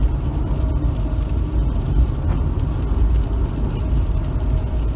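A Citroën Evasion 2.0 HDi with a loss-of-power fault, accelerating at about 100 km/h: a loud, steady, low engine and road drone holds without a break.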